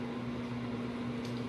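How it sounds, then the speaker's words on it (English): A microwave oven hums steadily while warming pita bread, a constant low electrical drone with a faint fan-like whir running unbroken throughout, close by and alone. "I just put it in the microwave for like 20 seconds."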